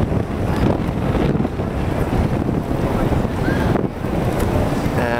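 On the East River waterfront in New York, strong wind buffets the microphone over a continuous rush of water and waves, loud and unbroken throughout.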